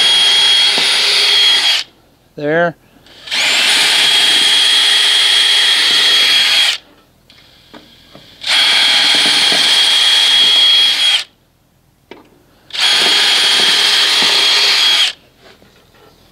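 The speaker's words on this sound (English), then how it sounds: "while I make my drill holes." A power drill whirs in three long bursts of several seconds each, separated by short pauses and a brief stutter, close and loud, drilling holes in a landscape trailer to install E-track.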